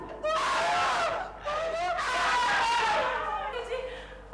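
A person screams in a Hindi family sitcom, giving two long, wavering, high-pitched shrieks close up and loud, separated by a brief gap.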